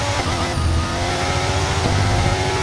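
Race car engine in the F1 23 video game, a steady loud droning roar with shifting pitch held throughout, with no talk over it.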